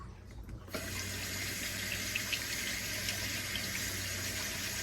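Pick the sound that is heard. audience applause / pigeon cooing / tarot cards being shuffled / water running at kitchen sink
water running at kitchen sink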